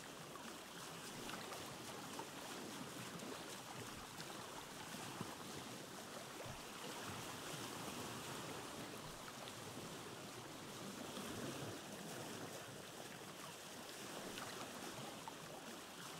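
A boat glides along a river in the Vintage Story video game, producing a soft, continuous wash of water and wind-like rushing that stays even and fairly faint throughout, with no speech.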